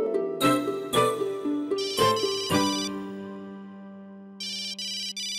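A phone ringtone plays loudly nearby, a melodic sequence of bright, bell-like notes ringing out several times with no one speaking.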